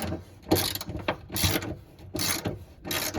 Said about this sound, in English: put your 10mm sockets and start unscrewing them counterclockwise